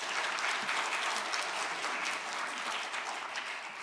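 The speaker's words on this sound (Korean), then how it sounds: "큰 박수로 조미나 선생님 모시겠습니다." An audience at a symposium applauds steadily for a few seconds, a dense, even clapping that fades slightly toward the end.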